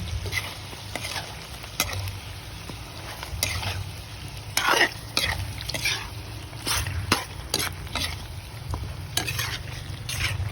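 Chicken adobo seasoned with oyster sauce is stirred in a sizzling pan, with repeated scraping strokes of a utensil over a steady fry hiss, close and moderately loud, with no talking.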